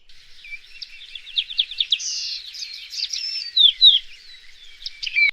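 Golden weaver calling on its own, a dense run of high chattering chirps and buzzy twitters that carries on without a break, with louder bursts near the middle and again near the end.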